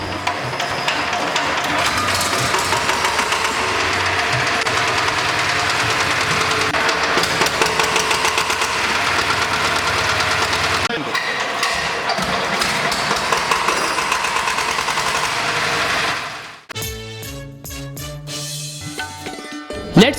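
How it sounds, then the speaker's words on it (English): A VST Shakti 130 DI power tiller diesel engine runs loud and steady with a dense, knocking chug for most of the stretch, then cuts off near the end into quieter clatter and scattered mechanical clicks. "Rotate it speedily and leave the decompressor lever to start the engine."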